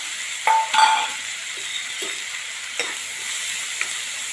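Green chillies and garlic fry in a pan for a green garlic curry, a soft steady sizzle broken by a few clinks of a utensil against the pan.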